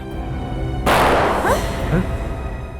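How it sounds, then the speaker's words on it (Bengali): A single loud gunshot-like bang with a sharp onset and short decaying tail, over a steady background hum. "গুলির আওয়াজ"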